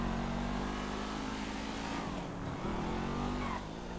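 Massacro sports car in GTA 5 revving hard on a straight, a loud, steady engine roar with no voices.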